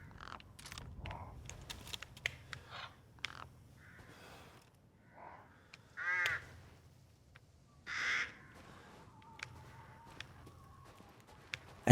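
Crows cawing as ambient background in the video game Resident Evil Village, several harsh, scattered caws ringing out at a distance over a quiet, faint bed of ambience, spaced irregularly across the stretch.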